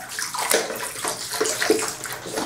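White vinegar poured onto a brush to soak it, a steady wet pouring and sloshing of liquid running close by for a couple of seconds with no talking.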